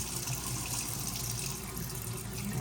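A faucet runs steadily as it flushes grime and sediment out of sand-filled pipes, making a continuous hissing, splashing gush of moderate loudness with no voices.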